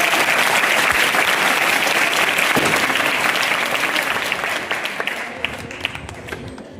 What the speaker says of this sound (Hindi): जोरदार तालियों से बच्चों का स्वागत कीजिए